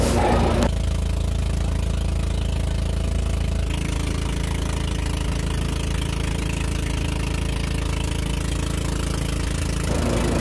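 Small passenger boat engine chugging steadily and loudly at close range, a continuous low mechanical drone with a brief change near the start and end, no speech.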